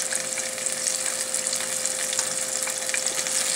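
Homemade onion rings fry in hot oil with a steady, dense sizzle and crackle, close up and continuous with small bubbling pops throughout, no voices present.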